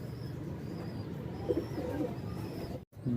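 A female pigeon coos close by in soft, low, rolling calls over a quiet background, ending in a brief pause.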